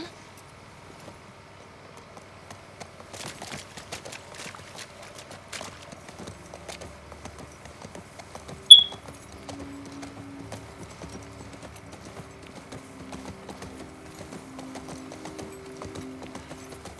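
Horse hooves clip-clop in The Last of Us Part II, a quiet, irregular patter of steps at moderate distance, with a brief sharp click partway through and low game ambience underneath.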